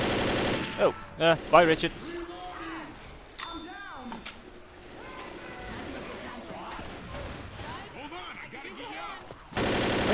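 Gunfire in Left 4 Dead's Blood Harvest campaign as players shoot zombies: bursts of rapid shots early on, then scattered firing beneath frequent overlapping talk and shouted voices.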